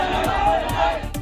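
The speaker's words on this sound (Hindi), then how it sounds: "थाने में भीड़ लगातार बनी रही और लगातार नारेबाजी करती रही।" A crowd of protesters packed into a police station keeps up continuous shouting of slogans, a dense roar of many voices with sharp cries rising above it, steady and loud throughout.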